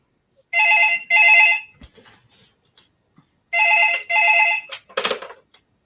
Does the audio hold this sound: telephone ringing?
yes